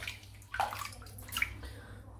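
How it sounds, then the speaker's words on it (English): A shaving soap is held under running water and rubbed with the thumbs, giving a steady rushing splash with a few brief sloshing swells. "Just submerge the whole soap under the water. Give it a bit of a rub on my thumbs."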